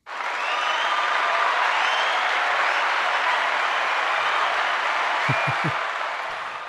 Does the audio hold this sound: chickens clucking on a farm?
no